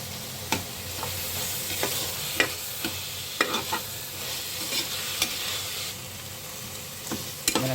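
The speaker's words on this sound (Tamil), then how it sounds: "நல்லா தக்காளியும் ஆனியன் நல்லா வதக்கிறதுக்காக லைட்டாக கொஞ்சம் சால்ட்" Tomatoes and onions with a little salt sauté in a pan for green gram rice. A constant close sizzle runs under regular clacks and scrapes of a stirring spoon, with no talking.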